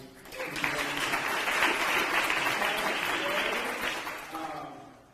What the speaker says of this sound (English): I want to give a round of applause to everybody